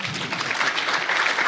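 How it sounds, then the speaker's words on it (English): An audience at a legislative panel applauds a state representative as he is introduced; dense, steady clapping fills the room without pause, fairly loud and sustained throughout. "Go ahead and applaud for him."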